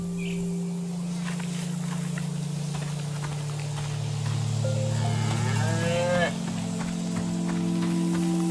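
A cow moos in the video game Season: A Letter to the Future, with one drawn-out, wavering call rising over a steady low game-ambience hum and faint background sounds.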